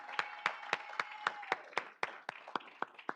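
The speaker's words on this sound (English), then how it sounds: "let's give them a round of applause" A single person's steady hand claps, about a dozen sharp, evenly spaced claps close by at a draft night event, with faint clapping from others behind.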